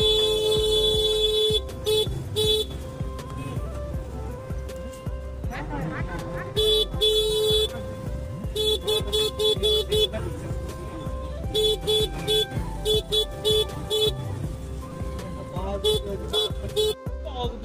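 Vehicle horns toot repeatedly in busy street traffic in Rishikesh, India, with short bursts of honking over a constant road din. Voices are also present.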